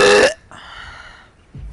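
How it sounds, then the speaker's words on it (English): A single loud, close burp rumbles out for about a third of a second during a ranked gaming livestream. A faint tonal hum lingers afterward, and then a brief low thump follows. "I started making the sound before I actually burped."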